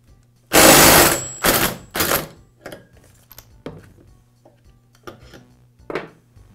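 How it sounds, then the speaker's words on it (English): An impact wrench spins a Poulan chainsaw clutch loose with a clockwise turn, using a clutch removal tool: one loud, close burst followed by two shorter bursts, then scattered light clicks and clunks of handling. "use my impact to remove it in a clockwise rotation"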